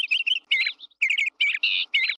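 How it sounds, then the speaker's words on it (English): A small bird chirps in quick, bright bursts of high tweeting notes, about six close, clear phrases in a row with short gaps between them. "Is it the sound of a car honking or a bird chirping?"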